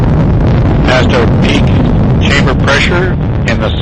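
The solid rocket motors of the Phoenix Mars lander's launch vehicle roar loudly in a continuous, rumbling blast, with crackling bursts and wind buffeting, while a voice talks over the noise.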